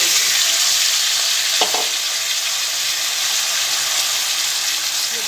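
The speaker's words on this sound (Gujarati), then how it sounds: "એમાં આપણે આ જે ચિપ્સ બનાવી રાખી છે એ એડ કરી દઈશું।" Frying potato chips hiss loudly in hot oil spiced with asafoetida and turmeric, a dense steady sizzle with a brief stirring scrape partway through.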